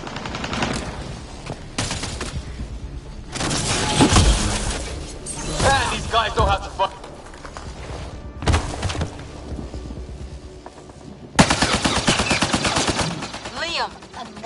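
Rapid bursts of gunfire from a Mass Effect Andromeda firefight, loud and repeated in several volleys, with someone talking over the shooting between bursts.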